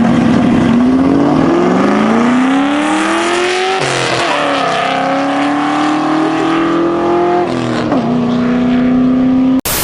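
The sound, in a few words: 2000s Ford Mustang 4.6 liter V8 engine driving on road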